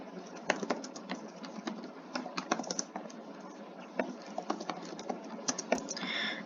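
Someone types Arduino code on a computer keyboard, with quick, uneven bursts of clicking keys that come close and clear against a quiet background.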